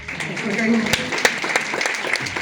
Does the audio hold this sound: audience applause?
yes